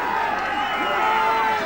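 A dense crowd at a 1991 World's Strongest Man event roars and cheers continuously for a competitor, a loud unbroken wash of voices with scattered whoops.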